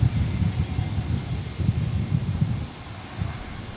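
Airliner engines rumbling on takeoff roll at Brisbane Airport, a steady, fairly close low roar with fluctuating intensity, heard without any talk.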